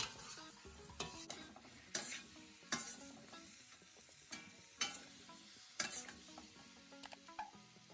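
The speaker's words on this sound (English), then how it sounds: "I'll add in my cauliflower and broccoli and stir everything together." Cauliflower and broccoli are stirred in a hot pan, a quiet sizzle punctuated by roughly eight sharp utensil scrapes and knocks at irregular intervals, with soft background music and no talking.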